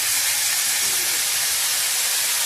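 Vegetables tipped into hot oil left over from frying fish for a homestyle Bengali fish curry, giving a loud, steady hissing sizzle that fills the whole moment without a break.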